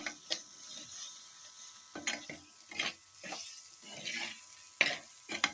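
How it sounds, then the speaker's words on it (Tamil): Ginger garlic paste fries in a pan while a spatula stirs it in short, scraping bursts separated by brief quieter gaps, close and fairly distinct, with no talking. "இஞ்சி பூண்டு பேஸ்ட்டு உங்களுக்கு அடி பிடிக்கும், பார்த்து நல்லா இது மாதிரி கிளறி விடுங்க"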